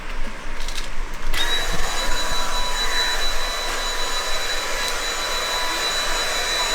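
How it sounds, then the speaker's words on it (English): A large, powerful vacuum cleaner in a caravan roars steadily and loudly up close with a bright, high whine. Its pitch shifts as it gets going, then it holds a continuous hiss for several seconds, with no voices over it. "it's a massive vacuum"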